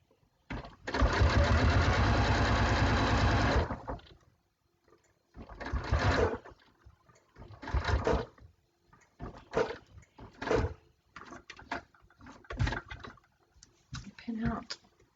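A sewing machine stitches quilt binding in bursts: one long steady run, then a string of shorter stop-start runs, close and moderately loud, with quiet gaps between.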